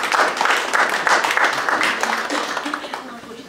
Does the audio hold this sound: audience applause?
yes